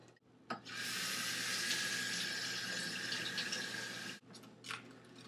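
Tap water runs steadily over berries in a sink for several seconds, a bright continuous gushing that cuts off abruptly, followed by a brief splash.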